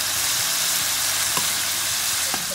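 Crushed tomato sautéing in a pan, a steady broadband sizzle and fry with a couple of faint utensil clicks, close and continuous with no talk.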